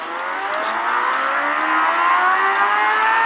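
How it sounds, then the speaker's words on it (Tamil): A Kawasaki Ninja ZX motorcycle in the racing game Ride 2 revs loudly and steadily, its engine tone climbing smoothly and continuously with no talking over it. "வண்டி சவுண்டை பாருங்களா"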